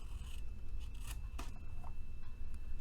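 Scissors snip along a score mark while trimming craft material, a few crisp close cuts over a steady background hum, with no one talking.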